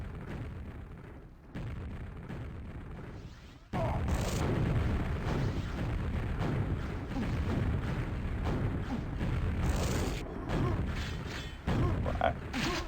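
Rocket blasts fill a QuakeWorld duel, the video game's explosions landing as repeated loud booms over a dense, crackling bed of in-game action, with a sharp rise in intensity partway through.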